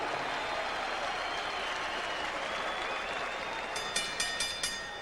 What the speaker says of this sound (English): a round of applause and a wish for speedy recovery to the Paz.